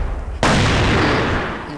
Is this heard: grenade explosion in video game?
yes